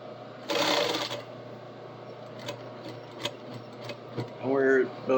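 A sewing machine stitches the bottom seam of a stuffed bird in two short close runs of steady mechanical whirring, separated by quieter handling noise and brief speech.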